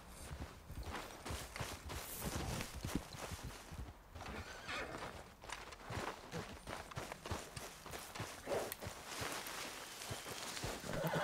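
A horse neighs while hooves clip-clop at a walking pace in the video game Red Dead Redemption 2, with rhythmic thuds over a busy background.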